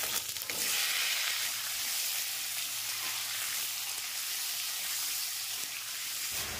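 Cut potato and papaya hit hot oil tempered with five-spice and a dried red chilli, a loud, dense sizzle that fills the whole stretch with a steady frying hiss and no talking.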